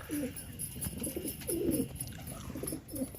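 Pigeons coo in low, throaty bursts while feeding outdoors, repeated murmuring calls overlapping at close range over steady background noise.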